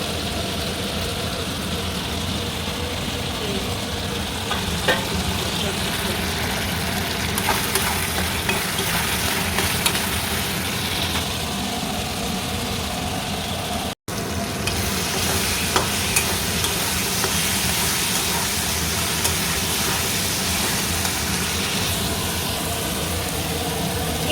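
Food fries and is stirred in a home kitchen pan, a steady dense sizzle running throughout with scattered scraping stirs and a brief dropout midway, with no talking.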